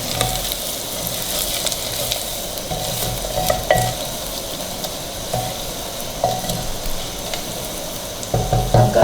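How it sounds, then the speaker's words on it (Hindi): Onions fry in ghee in a cooking pot, a continuous close sizzle with spatters, occasional stirring clinks and scrapes that grow busier toward the end. "देखिए प्याज हमारा घी में फ्राई हो रहा है"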